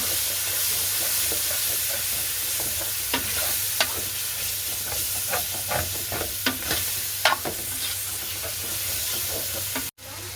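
Curd being stirred into a sizzling pan of hot oil for a Sunday special dish, with a steady loud frying hiss and scattered spoon scrapes and pops close by, and no talking.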